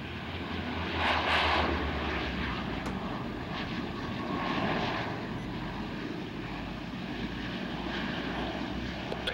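Airliner jet engines roar at San Jose airport as a 737-400 and other airliners land and depart, a continuous loud rumble that swells and fades without speech.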